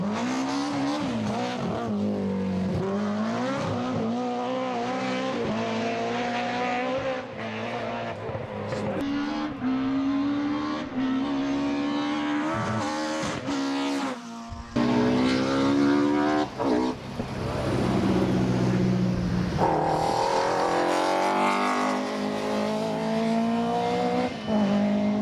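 A BMW E30 M3 race car drives steadily, its engine note rising and falling through gear changes with a brief break midway, loud and close throughout.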